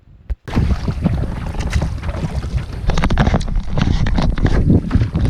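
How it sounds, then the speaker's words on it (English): Wind gusts roar loud and steady across the microphone while a canoe is paddled into a headwind on Burnt Island Lake in Algonquin Park, with faint water and paddle sounds buried beneath the continuous blustering. "Got a very nice headwind right now."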